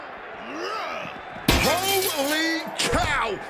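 Glass shatters loudly in the WWE 2K26 wrestling game as a wrestler is slammed through it, a sharp crash with tinkling shards over excited commentary and crowd noise.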